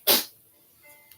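A single sharp, loud sneeze bursts out close by during an indoor card reading, then fades into near silence with only faint small noises afterward.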